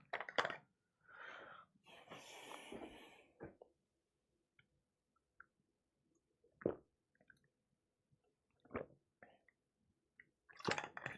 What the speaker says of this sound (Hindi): यहां तक मैं पानी पीता हूं फिर आगे बातचीत करते हैं।